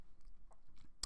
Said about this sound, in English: You hear me chewing.